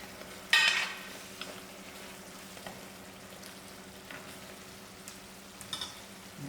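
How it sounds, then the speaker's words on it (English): Tomatoes are stirred into lamb chops cooking as a chutney, giving a soft, low sizzle with a brief scraping burst near the start and a few faint clinks and stirring sounds. "I stir in the tomatoes"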